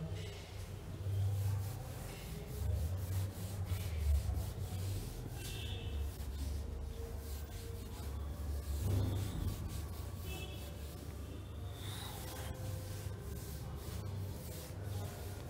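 Soft, continuous rubbing and scrubbing of a duster erasing writing on a classroom board, with brief scraping strokes and a low room hum, while a teacher's voice is faintly heard.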